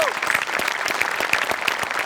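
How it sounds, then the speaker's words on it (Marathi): A studio audience at a Marathi TV comedy show claps loudly for the performers, a dense, steady burst of clapping that fills the whole moment. "सगळ्यात आधी सचिन मोटे आणि अभिजित पवारसाठी जोरदार टाळ्या"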